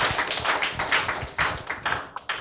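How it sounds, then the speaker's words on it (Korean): Clapping from an audience welcoming a speaker at a Korean inspirational talk event, with several distinct claps and a brief, uneven burst of applause at moderate distance. "박수로 맞이해 주세요."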